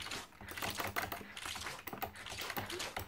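Rapid, continuous typing on a broken computer keyboard, with dense clattering keystrokes at close range and no pauses.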